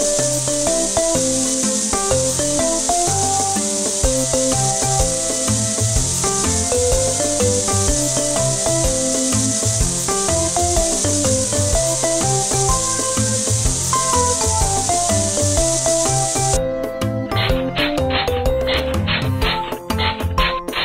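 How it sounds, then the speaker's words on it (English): A steady water spray hissing continuously as foam is rinsed off a puppy in a kids' pet doctor mobile game, running loud over cheerful background music and cutting off near the end. "Then, please rinse the foam away with the water."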